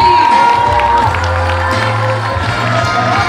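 A crowd at a dolphinarium show, just after a sea lion performance, claps and cheers loudly, with shouts and whoops over a dense roar while a tonal whistle-like sound and a low hum run underneath.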